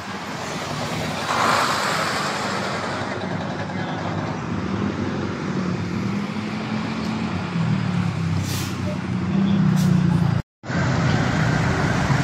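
Steady road traffic flows on a road under rehabilitation, a continuous broadband roar of passing cars and trucks with a brief air-brake hiss, close and loud throughout, cut by a momentary dropout near the end.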